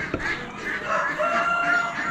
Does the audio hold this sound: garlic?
no